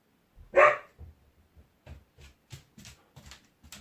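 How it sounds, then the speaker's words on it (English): A dog gives one sharp, loud bark indoors, followed by a run of quieter, short huffs and yips. "I'm sorry about the dog, darlings."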